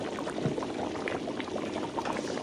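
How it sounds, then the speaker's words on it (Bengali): A large pot of vegetables for about a hundred people simmers with a steady, dense bubbling and churning, close and continuous throughout. "100 জনের সবজি রান্না হচ্ছে"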